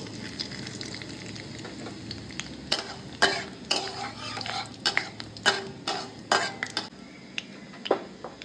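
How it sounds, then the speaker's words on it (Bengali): Dried red chillies and nigella seeds frying in hot oil in a pan, a steady sizzle broken by repeated sharp clinks and scrapes of a spatula stirring against the metal. "তেলটা গরম হয়ে গেছে, তার মধ্যে আমি দিয়ে দিচ্ছি দুটো শুকনো লঙ্কা আর দিয়ে দিচ্ছি কালো জিরে"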